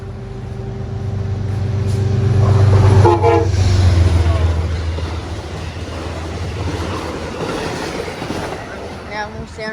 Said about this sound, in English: Whoa, look at this one. It's another Amtrak.